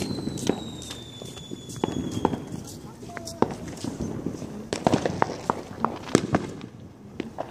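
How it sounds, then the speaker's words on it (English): Fourth of July fireworks go off in a scattered run of sharp cracks and pops, some near and some farther, with whistles and people talking throughout. "We're doing fireworks right now."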